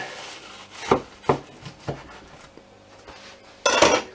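A knife cuts a kielbasa sausage roll in half on a board, producing a few sharp, separate taps and scrapes close up, followed by a louder crunching cut at the end.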